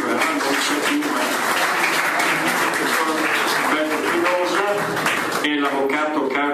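Sustained applause from a crowd, dense steady clapping throughout, with voices audible beneath it near the end.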